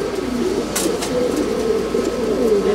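A champion racing pigeon coos in a breeder's loft, giving soft, low, rolling coos repeated several times at close range over a steady background hum, with no talking.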